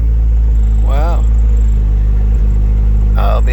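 A Honda Civic engine idles steadily and loudly up close after being started for the first time in a while, a constant low rumble under two brief bursts of talk.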